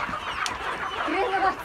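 Lohmann Brown laying hens, about four months old, clucking softly at close range, a few short calls overlapping, with faint background noise.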